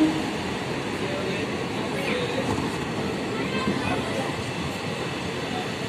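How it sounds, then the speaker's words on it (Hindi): A local train stands at Godda railway station in India, serving the Godda to Bhagalpur route, with a continuous rumbling hum and platform bustle, and voices can be heard faintly in the background. "local train Godda to Bhagalpur जाती है ये ट्रेन, आप देखिए लोकल ट्रेन है"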